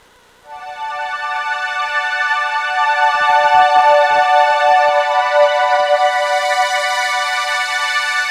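An ambient layer of synth-based string sounds on a KORG Wavestate fades in and swells into a sustained, bright pad that holds steady and loud, with a faint low flutter in the middle.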